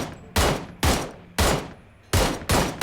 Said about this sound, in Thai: ทางโน้นยิงกันเห็นแล้ว